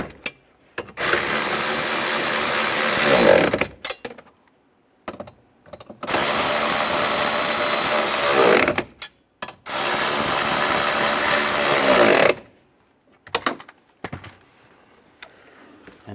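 Power tool tightening bolts while replacing the antenna base on a 2007-2013 Chevrolet Silverado, three long whirring bursts of a few seconds each separated by short clicks and quiet gaps.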